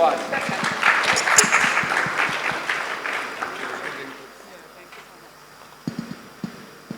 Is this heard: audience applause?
yes